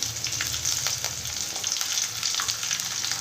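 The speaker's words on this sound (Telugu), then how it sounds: "కొద్దిగా కరివేపాకు ఇది బాగా వేగనిద్దాము" Garlic, dried chilies, ginger, green chilies and curry leaves fry in hot oil for a rice dish, a dense, steady close sizzle with faint stirring underneath.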